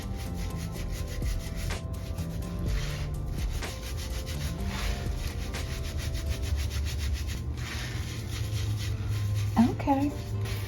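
Hands rubbing Selsun Blue Naturals anti-dandruff shampoo into the scalp, a continuous soft friction and scrubbing texture that stays close and fairly quiet throughout, with faint vocal sounds near the end.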